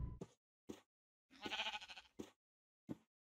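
A Minecraft goat bleats in several short bursts, one longer wavering call in the middle, with silence between the calls.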